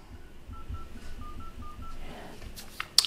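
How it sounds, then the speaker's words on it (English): Keypad dialing tones on a Samsung Galaxy Z Flip 4 beep in a steady sequence of about seven short, even tones entered one after another, followed by faint taps and a click, close and quiet with no talk. "If you tap on keypad, this is where you'll bring up the numbers to basically initiate a call. And we're going to enter a phone number now."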